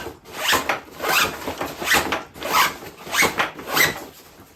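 Zipper on a Bundeswehr Snigel 35 liter daypack is pulled back and forth in five or six rhythmic rasping strokes, close and clear with no talking.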